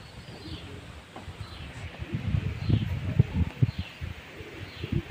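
Pigeons crowd a roof, giving a steady stream of low, soft coos and rustling that builds after the first couple of seconds, close by with no talk over them.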